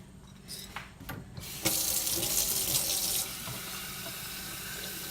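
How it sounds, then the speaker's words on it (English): Tap water runs steadily into a mason jar of sprouts at a kitchen sink, a strong close gush that follows a few faint knocks and handling sounds. "I just put some water in here"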